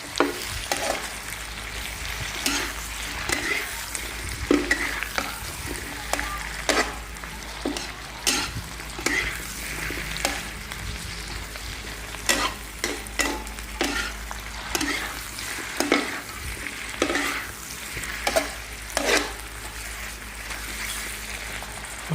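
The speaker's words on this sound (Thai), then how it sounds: "คลุกเคล้าให้เข้ากันก่อนนะครับ ให้แตงกวาสุกนะครับ" Vegetables with cucumber sizzle in a hot wok while a utensil scrapes and tosses them in repeated strokes, the frying hiss constant underneath.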